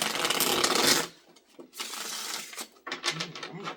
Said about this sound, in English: one more cleansing shuffle on this deck